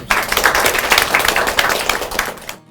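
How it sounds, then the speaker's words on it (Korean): Company employees applaud together, a dense, steady burst of many hands clapping for a couple of seconds before stopping abruptly. "직원들의 박수에 더욱 힘이 나는데요."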